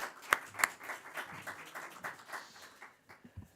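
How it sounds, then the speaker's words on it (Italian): Applause from a small audience at a regional presentation, a few sharp individual claps at the start giving way to scattered, irregular clapping that thins out and fades within a few seconds. "Un applauso."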